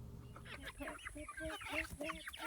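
Several chickens cluck and murmur together nearby, a busy, overlapping run of short throaty calls.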